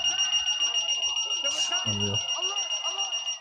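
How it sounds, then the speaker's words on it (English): A fire alarm sounds continuously, a steady, loud, high-pitched electronic beeping that runs through the whole moment while someone talks over it. "Fire alarm."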